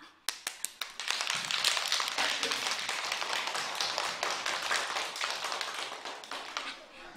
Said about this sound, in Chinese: 同学们，再一次把掌声送给蔡爸爸。